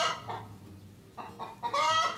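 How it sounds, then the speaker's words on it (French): Hens clucking in short bursts with a louder, busier flurry of fowl calls toward the end, fairly close, no talk. "Ils sont à toi, les poules."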